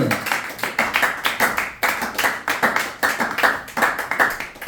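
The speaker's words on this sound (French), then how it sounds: "Applaudissez pour la parole" A congregation at a Friday church service claps for the preached word in a strong, steady rhythm, many hands striking together in regular beats, loud and close, with no speech over it.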